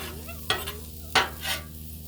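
Shrimp fried rice cooks on a Blackstone griddle with a steady close sizzle and two sharp spatula scrapes, followed by a softer swish.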